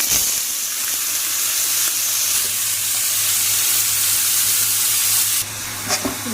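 Crushed green chilli and garlic sizzle steadily in hot oil for a tempering, a continuous bright frying hiss with faint stirring clinks near the end.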